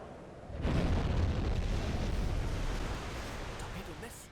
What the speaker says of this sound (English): Depth charging has started, as you can hear.